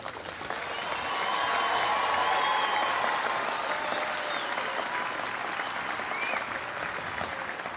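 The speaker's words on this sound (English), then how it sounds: "Let us give the graduates a loud, extended round of applause." Loud, sustained applause from a large commencement audience celebrating graduates, swelling after a moment into a dense, steady wash of clapping that holds for several seconds without letting up.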